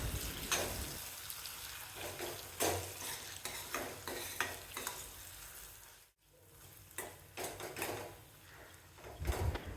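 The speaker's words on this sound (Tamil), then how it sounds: "அடுப்பை லோ ஃப்ளேமில் வச்சு ஒரு 2 நிமிஷத்துக்கு நல்லா வதக்கணும்." Sliced nendran banana sautéing in a pan over a low flame for a Kerala payasam, with a soft sizzle under repeated scraping strokes of a spoon stirring, pausing briefly midway.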